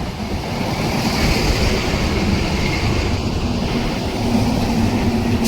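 Train crossing the Golden Bridge over the Narmada, a loud, steady rumble of wheels and carriages heard close up, mixed with wind buffeting the microphone, with no voices.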